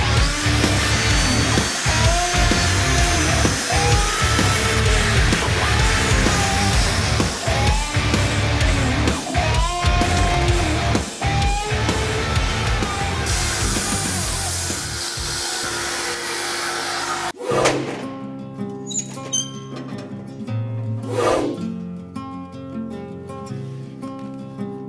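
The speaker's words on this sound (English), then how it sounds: "The heat up time of the forge is rather quick." A knife maker's gas forge in Austria roars loudly and steadily as it heats up for forging steel, cutting off after about seventeen seconds and leaving quieter, scattered workshop clatter.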